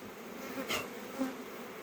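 Honey bees hum softly and continuously at close range at the hive, with a few individual buzzes rising briefly above the steady drone.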